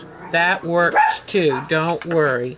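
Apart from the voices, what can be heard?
dogs barking outside through open windows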